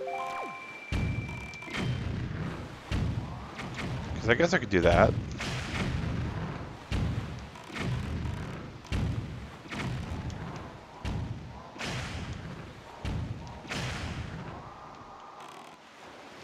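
Bombs blowing up cannons in a Zelda game set among islands, a string of repeated booming thuds and blasts at steady intervals, loud and close, with someone talking over them.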